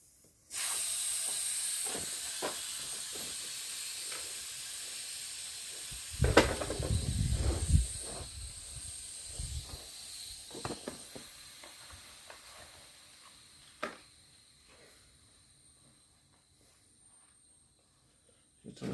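Air hissing steadily from a Land Rover tyre with its valve core removed, a continuous close hiss lasting most of the clip with a few bumps and handling knocks, slowly fading toward the end.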